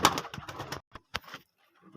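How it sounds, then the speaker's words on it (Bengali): A pigeon coos at close range in a few short, throaty bursts separated by brief pauses, soft and alone with no talk. "চলে এলাম আর একটা নতুন পায়রা নিয়ে।"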